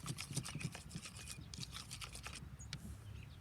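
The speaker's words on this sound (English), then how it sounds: "Then get a stirring tool and stir your hand soap" Hand soap being stirred into slime with a stirring tool, giving soft, wet, squishy scraping strokes in a quick irregular rhythm, close and fairly quiet, with no talking.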